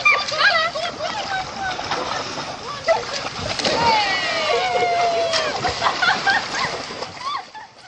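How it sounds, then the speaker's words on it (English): A Rottweiler yelps and whines excitedly in rapid, high-pitched bursts, close by, with splashing water in the background. "That's excited barking, nothing wrong with that."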